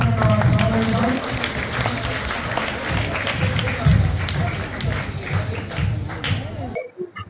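An audience claps to welcome a leader at a Christmas celebration, a loud dense wash of applause with voices mixed in, fading before falling silent near the end.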